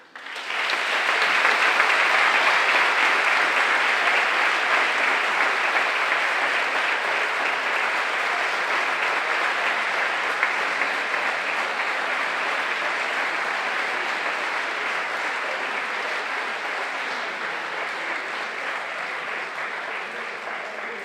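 Sustained audience applause fills a graduation gala for a 2025 Bachillerato class, a dense, steady wash of many hands clapping at once that holds strong throughout and only slightly thins toward the end, with no talk over it.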